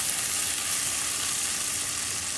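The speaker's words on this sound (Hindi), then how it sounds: "ये सारी भिंडी मैं इसमें डाल दूँगी, और इसको अब हम अच्छी तरह से भून लेंगे" Okra sizzles steadily while sautéing in a pan for bhindi do pyaza, a continuous broadband frying hiss close by with no talking.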